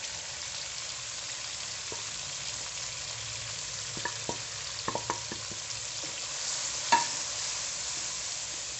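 Tomatoes frying with black pepper, whole cumin and karahi masala for beef karahi give a low, steady sizzle, with a few soft spoon clicks and scrapes against the pan, no speech.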